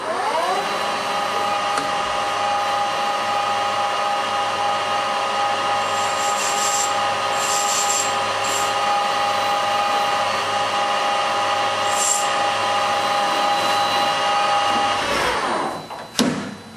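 Steady machining drone of a lathe turning stainless steel at a fine 0.18 mm per revolution feed, a constant loud whine with tonal bands running continuously, a few brief squeals midway, then winding down near the end.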